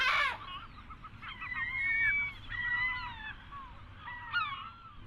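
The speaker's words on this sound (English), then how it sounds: "The seagull fiercely protects its brood, and it needs to, because its eggs are coveted above all by other gulls." Seagulls in Rome give a series of harsh, wavering calls, several birds overlapping in bursts that rise and fall, heard from fairly near over a steady low urban rumble.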